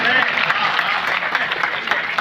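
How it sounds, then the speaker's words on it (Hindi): Audience applause at a comedy poetry night in Lucknow, a dense steady wash of clapping lasting a couple of seconds with a few voices mixed in. "लेकिन ताली आपने बराबर बजाई।"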